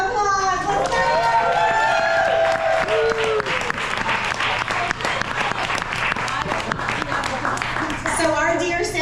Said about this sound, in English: Please join me in celebrating Sam tonight with a huge round of applause.